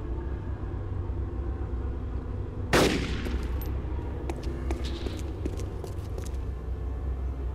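A single sharp rifle shot from an M24 scoped bolt-action rifle in DayZ cracks out once, loud and close, over steady low background rumble, followed by faint scattered clicks and rattles.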